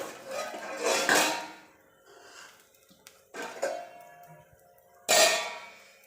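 A pan and a metal spatula while a potato and barnyard millet (bhagar) cake is flipped, giving three separate close clatters and scrapes of metal on metal with quieter handling and breathing between them.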